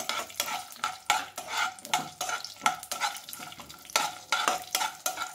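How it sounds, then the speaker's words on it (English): Dry nuts roast in ghee in a hot pan, with a spoon scraping and stirring in steady, repeated strokes over a soft, close sizzle. "In a hot pan, I'm going to add 2 tablespoons of ghee, and I'm going to roast my dry nuts."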